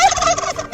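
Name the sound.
turkey gobbling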